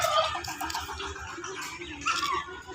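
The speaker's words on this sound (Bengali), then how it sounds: "ওই যে মুরগি।" Hens cluck repeatedly nearby in a steady, busy stream of short calls over a noisy outdoor background.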